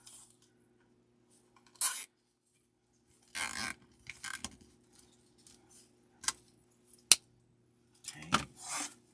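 Floral cutters trimming stems for a mason jar floral decoration, a handful of short crisp snips and rustles spaced irregularly in quiet surroundings, close up.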